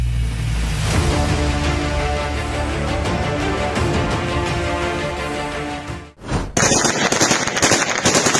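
Loud bursts of small-arms gunfire aimed at a kamikaze FPV drone ring out amid a mechanical hum, followed after a brief dip by a harsh crackling blast.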